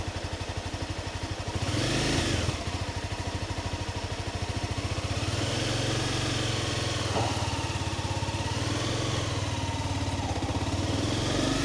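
A 2015 Honda CBR300R motorcycle engine runs close by at a steady idle-like rumble, with a brief rev swell early on and a smaller pitch shift later, holding constant loudness throughout with no talk.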